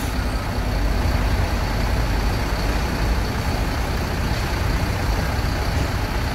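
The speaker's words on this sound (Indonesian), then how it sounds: "bus diberangkatkan dari Palembang tujuan ke Bogor" A Sinar Jaya luxury bus pulls out of Palembang bound for Bogor, its engine giving a steady low rumble close by with constant road and engine noise throughout.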